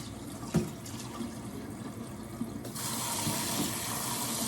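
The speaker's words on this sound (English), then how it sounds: "I'll just let the water run over it in the sink" Kitchen tap water runs steadily over Miracle Noodles in a sink, a constant close hiss that grows fuller and louder partway through, with a couple of small knocks and no voices.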